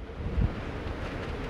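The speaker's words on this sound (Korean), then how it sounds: "초속 30m가 넘는 강한 바람이 불면서 가만히 서 있어도 몸이 휘청거릴 정도입니다" Strong typhoon winds above 30 m/s roar across Seogwipo harbour on Jeju as Typhoon Soulik passes, with huge waves rolling in. A steady, fairly faint broadband rush is heard, with one low buffeting thump.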